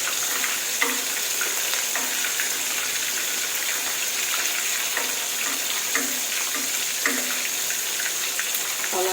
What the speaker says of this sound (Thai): เราแค่ทอดให้เหลืองกรอบ